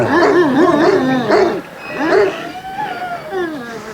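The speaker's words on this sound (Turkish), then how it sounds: "Bak hani birbirlerine hırlamalar da var ha." Two large dogs growl and snarl at each other in a dominance standoff, rumbling, wavering growls up close that rise and fall in loud overlapping bursts.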